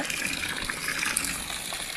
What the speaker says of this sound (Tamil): க்ளீன் பண்ணி இந்த தண்ணியை வந்து வெளியேற்றிக்கிட்டு இருக்கோம்